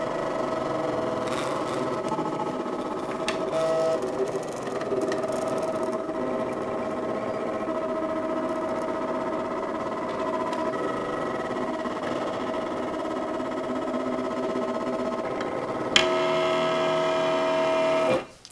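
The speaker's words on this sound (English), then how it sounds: "it needs to cut out 4 times through this magnet material" A cutting machine with a deep cut blade slices through magnet material, a steady mechanical whir with a whining tone that holds evenly, then shifts pitch near the end and stops abruptly.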